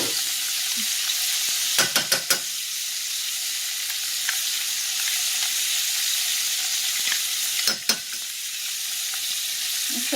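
Asparagus sizzles steadily in melted butter in a pan, a close, continuous frying hiss with a few sharp clinks and scrapes of a utensil against the cookware.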